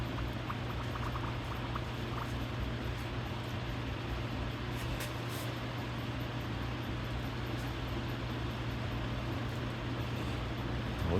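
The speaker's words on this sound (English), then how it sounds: "We got bubbles coming out of the reservoirs." Fluid bubbles and gurgles out of reservoirs into tubes as a steady, even simmering hiss that stays faint and unbroken throughout, with no voices.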